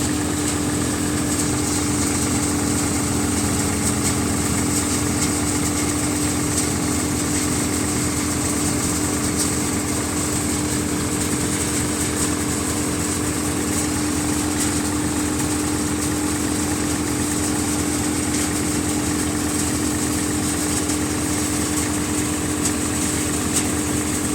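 A tractor at steady full throttle drives a Param basket-model thresher through its 540 PTO while threshing a crop, a continuous loud droning hum with no change in engine speed, close and alone.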